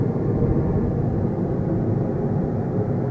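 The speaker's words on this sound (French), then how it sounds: "c'est le fond d'air, c'est le bruit du silence." Room tone fills a quiet exhibition space at an art centre, a steady low rumble and hum with no distinct events, continuous and even throughout.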